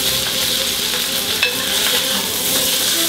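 Filet mignon steak finishing in a hot frying pan with a spoonful of butter: a loud, dense, steady sizzle and crackle, close and continuous throughout.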